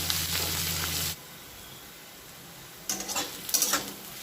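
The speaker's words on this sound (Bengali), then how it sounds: "এবার দিয়ে দেব পেঁয়াজ কুচি। পেঁয়াজটা লাল লাল করে এবার ভেজে নেব।" Chopped onions and whole cumin fry in hot oil, a loud sizzle at first, then quiet, then bursts of stirring and scraping in the pan.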